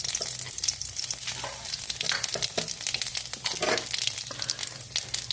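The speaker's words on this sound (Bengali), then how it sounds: "এই যে জিরা সম্বার দিয়ে দিলাম" Cumin seeds sizzling in hot oil after a bay leaf, tempering for a banana-flower fritter curry, with a busy crackle and spattering bursts punctuated by stirring scrapes throughout.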